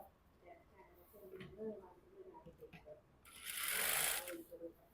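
A sewing machine runs a simple stitch along the top part of a patiala salwar, a loud close whirring burst near the end after scattered handling noises. Someone talks over the earlier part.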